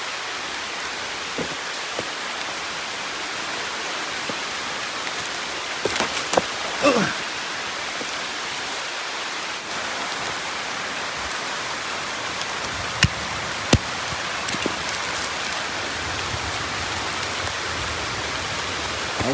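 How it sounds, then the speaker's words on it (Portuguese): Rain falls steadily through forest foliage, a continuous soft hiss with occasional heavier drips and knocks scattered throughout, no voices heard. "Caiu foi água na mata."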